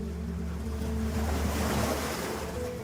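Ocean water at Dalkey Harbour washes and laps in a steady, soft wash of surf with a low rumble, continuous and close with no voices.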